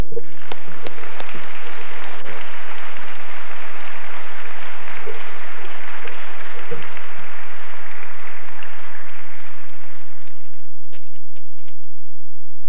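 Sustained audience applause welcoming a speaker at a Gun Owners of America event, a steady wash of clapping that holds for about ten seconds before tapering into a few scattered claps.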